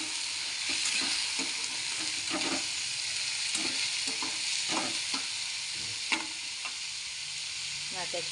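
Moong dal sautéing in a pan before greens are added gives a steady sizzle with repeated scraping stirs of a spoon against the pan, close and continuous with no talk.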